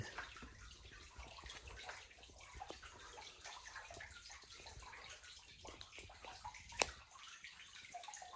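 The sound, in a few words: water flowing in a cave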